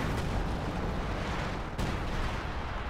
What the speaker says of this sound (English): it's sector artillery